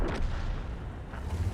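A tank blowing up in World of Tanks: a low, rumbling boom at the start that gives way to a steady, dense battle rumble carrying on at moderate loudness.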